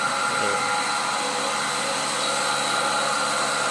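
A portable cow milking machine switched on and running, giving a steady, loud mechanical hum with a continuous motor whine that holds even throughout, with no talking.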